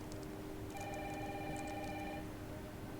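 A telephone rings twice in a quiet room, bright bell-like tones held for about a second and a half over a steady wash of heavy rain.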